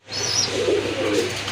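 Afsan grizzle racer pigeons cooing at close range, a continuous low throaty coo with a brief higher chirp near the start, alone without talk.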